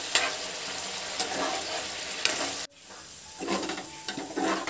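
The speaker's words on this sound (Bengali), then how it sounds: "এরপর সব কিছুকে ভালো করে কষিয়ে নেব।" Egg curry masala sautéing in a pan with a splash of water and ginger garlic paste, with a loud continuous sizzle and stirring scrapes, briefly cut off before the frying resumes slightly softer.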